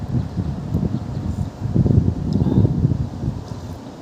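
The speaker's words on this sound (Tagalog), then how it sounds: "lakas ng hangin" Strong wind buffets and roars steadily, with gusty rumbling swelling louder midway through, no one speaking.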